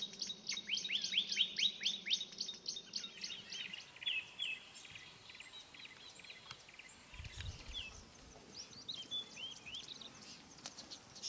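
Birds sing in Akagera park, Rwanda, with rapid trilling chirps at first, then scattered calls and tweets over a quiet, low natural background, moderately distant.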